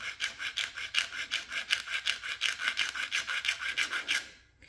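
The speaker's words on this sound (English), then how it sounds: "Sanding each and every one of these until we get them all the same height." Rapid back-and-forth rasping of sandpaper on small wooden parts of a Model Shipways dory model, close and rhythmic at about four strokes per second before stopping.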